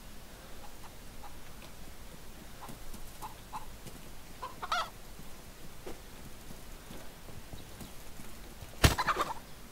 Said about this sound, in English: One hen, cluck. There's a good hen.